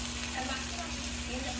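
Chicken fries in a Saladmaster pan, giving a steady close sizzle under a constant hum over a brief stretch.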